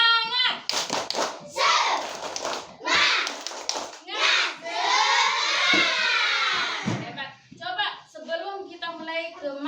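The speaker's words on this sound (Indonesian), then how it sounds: "coba sekarang kita tepuk semangat dulu ya semuanya" Children in a classroom perform the Indonesian "tepuk semangat" rhythmic clapping chant, sharp hand claps in quick patterned bursts mixed with loud chanted and sung voices of the kids, close and lively throughout.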